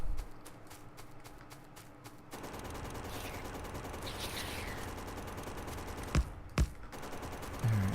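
Gun turrets fire bullets at biter nests in Factorio: rapid rattling bursts start quietly, then swell into a dense continuous chatter, with a couple of sharp louder thumps near the end.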